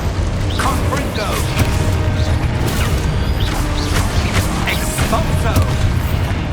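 Spell blasts crackle and boom during Hogwarts Legacy combat, a dense run of bursts, impacts and magical whooshes over a rumbling battle bed, with incantations shouted throughout.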